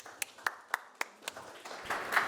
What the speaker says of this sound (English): can I get a round of applause as we welcome onto stage?